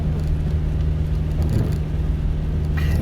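A 2015 Subaru WRX with a straight-pipe exhaust and a slipping clutch gives a steady, loud low rumble while driving, with a continuous droning engine note and no talk.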